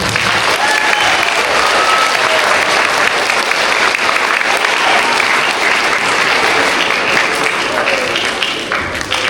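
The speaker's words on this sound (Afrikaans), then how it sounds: "Ons kan vir al hierdie lesers 'n lekker hande klap." An audience in a school hall at a Grade 1–3 assembly claps loudly and steadily for young readers, a thick, sustained wash of applause with faint voices mixed in.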